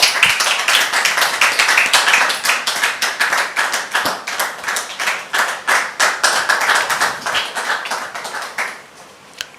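An audience applauds to welcome a woman onto the stage of a French-language talk show, with brisk, steady hand clapping close by that loosens into a more rhythmic beat and fades near the end.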